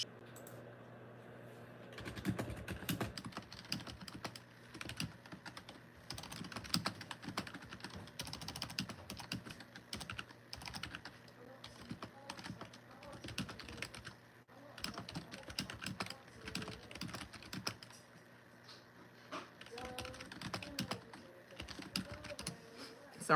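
Rapid typing on a computer keyboard, steady bursts of close key clatter with short pauses, continuing for over twenty seconds against a low background hum.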